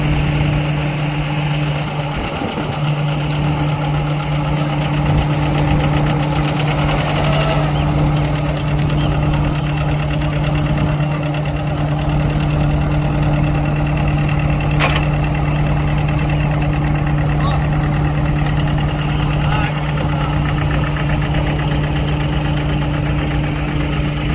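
A tractor engine runs steadily while reversing in a groundnut field, a loud continuous drone with a deep idling hum, unbroken for the whole stretch with no talk over it.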